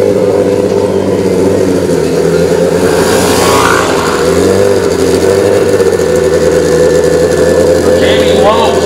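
Pro street drag racing motorcycle engines at an XDA drag racing event, a steady loud mechanical drone with revving surges, under crowd noise and an announcer's voice.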